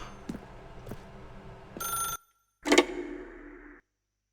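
A telephone in The Stanley Parable rings in a few short electronic bursts, fairly close and clear, separated by a brief silence, with faint ambient sound beforehand.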